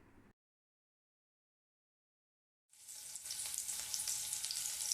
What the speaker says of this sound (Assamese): সেই তেলতে প্ৰথমতে কাটি থোৱা পিঁয়াজ দুটা প্ৰথমে ভাজি ল'ম।